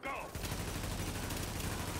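Continuous gunfire in the video game The Division: a dense, loud barrage of shots that holds steady for about two seconds after a brief quieter lead-in.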